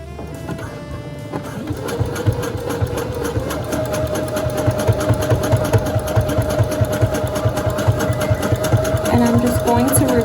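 A sewing machine runs a zigzag stitch on fabric while ruffles are sewn, giving a loud, steady, rapid mechanical whir and clatter that continues without a break.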